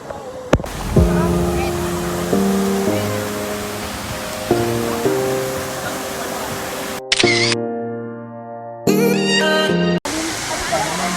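Bolinao Falls in Pangasinan sends up a continuous broad rushing roar, partly masked by stepped musical tones laid over it, with a brief dropout near the end.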